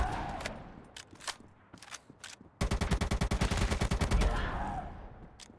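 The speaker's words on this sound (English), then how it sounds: "Let's try some accuracy shooting." Rapid automatic gunfire from an accuracy shooting drill in ZOZ: Final Hour, opening with a few scattered single shots, then a dense, loud sustained burst for about two seconds before tapering off.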